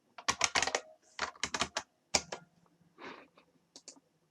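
Fingers tap on a computer keyboard in short, irregular bursts of crisp keystrokes, close and fairly quiet, with brief pauses between runs.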